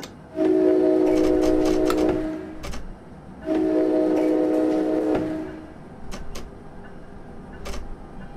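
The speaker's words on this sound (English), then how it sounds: "Departing away from Aberdeen-Matawan, the starting speed limit is 45 miles per hour" An ALP-45D locomotive departs Aberdeen-Matawan station in Train Simulator 2017, sounding two long loud horn blasts followed by rumbling movement and scattered clicks of the rails.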